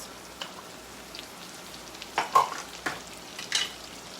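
Peppers and potatoes with rosemary sizzle softly in an oily pan while a utensil stirs them, producing a faint frying hiss punctuated by several scraping, clattering stirring strokes.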